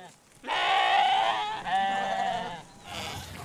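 Sheep arrive at their summer stable after an eight-hour drive, giving a loud, close bleat that runs for over two seconds and wavers in pitch before fading.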